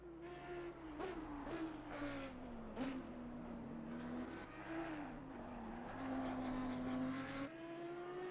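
An Audi R8 Evo 2 race car engine in Assetto Corsa Competizione at Mount Panorama, a sustained high-revving drone that rises and falls through gear changes, heard under continuous commentary.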